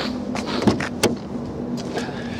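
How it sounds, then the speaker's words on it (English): Rear electric windows of a diesel Hyundai i30 hatchback operating: a steady low motor whine hums throughout, broken by a few soft clicks and thumps at close range. "Electric windows for the rear of the vehicle"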